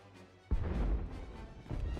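Explosions in the Star Wars: The Old Republic video game, a sudden heavy crash followed by a rumbling tail and a second, weaker blast near the end.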